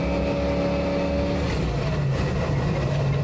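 A 1970 Ford Mustang Mach 1 cruising slowly in fourth gear, a continuous loud low exhaust drone and road rumble heard up close, with no talk over it.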